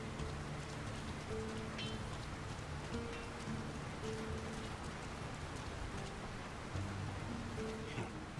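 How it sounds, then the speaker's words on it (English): Steady rain falls on a town in the Lord of the Rings: War in the North video game, a dense constant patter of drops on surfaces with faint low tones beneath, heard alone. "Who could live in a town where it's always raining?"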